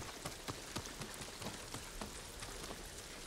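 Rain in the video game Ghost of Tsushima, a steady, soft patter of drops falling on surfaces with faint clip-clop beats from a horse, low in level and without talk.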